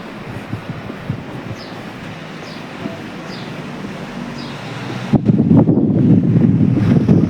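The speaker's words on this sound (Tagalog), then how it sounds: "Pero mahangin." Wind blows outdoors, a steady rushing roar buffeting the microphone that swells and grows louder and rougher partway through.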